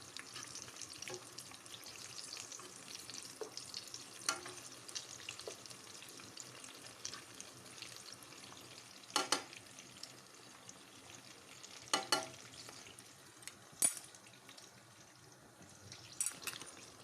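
Dates for a Mostaganem-style date tajine fry in a pan with a soft, steady sizzle, broken by occasional louder scraping stirs or turns, heard close and without talk.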